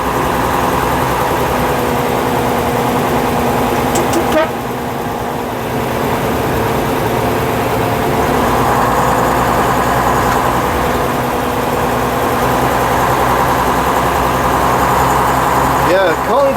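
A 1956 Daimler double-decker bus engine drones loud and steady from inside the cab while driving, a deep continuous rumble throughout with a brief dip partway.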